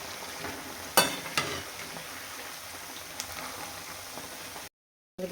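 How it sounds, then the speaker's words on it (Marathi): Onion fries in a pan with a steady soft sizzle, broken by a few sharp clinks from a spoon near the start, then a brief gap of silence at the end. "आता तो थोडासा कांदा आपल्याला तळलाय, पण अजून आपल्याला ह्याला छान तळून द्यायचा आहे"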